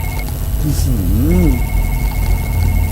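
A telephone rings in the horror video game OneLateNight, a warbling electronic ring with a steady high tone, heard under a continuous low background hum.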